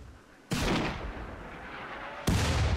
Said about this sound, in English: bang, bang of the sniper rifle